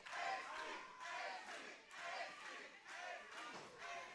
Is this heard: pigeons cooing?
no